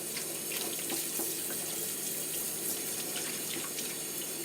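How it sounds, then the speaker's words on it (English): Cool water sprays in a steady, hissing stream onto a metal pressure cooker to release its pressure, a constant rushing wash with faint splashes throughout and no talking. "I'm releasing the pressure with the cool water."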